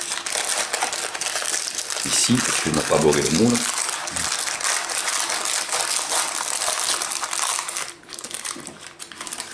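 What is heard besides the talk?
peeling baking paper off a baked chocolate sponge cake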